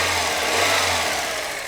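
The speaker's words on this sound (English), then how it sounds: "So the engine is running fine," A car engine idles with an even, low mechanical hum, steady and close, with no revving.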